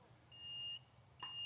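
Reverse backup beeper of a Star Cart electric golf cart, two high electronic beeps with a pause between, faint and close over a low background hum, with no talking.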